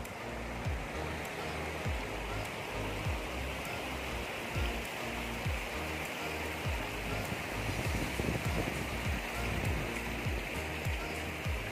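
Water flowing from Deepak Tal lake near Sarchu rushes and splashes steadily nearby, a continuous bright flowing hiss with small gurgles, no voices.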